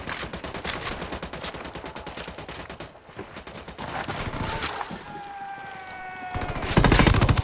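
Rapid sniper and automatic gunfire in Ghost Recon Wildlands, dense bursts of sharp cracks rolling continuously through the ambush, loud and close, swelling again into a heavy volley at the end.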